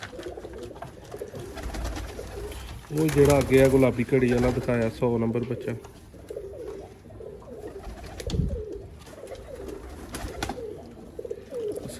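Sialkoti pigeons coo in low, throaty bursts, loudest in a rich rolling stretch near the middle, while someone talks over the birds.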